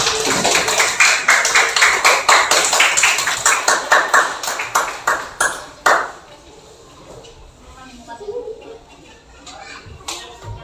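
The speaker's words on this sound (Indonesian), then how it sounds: "Beri tepuk tangan untuk kelompok kinestesi." A classroom group of children claps enthusiastically for a presenting group during a school lesson, with dense, loud applause for about six seconds that then tapers off into scattered claps and quiet murmuring.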